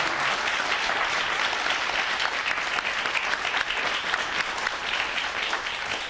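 An audience at a veterans' town hall applauds in a sustained, even burst of many hands clapping from start to finish.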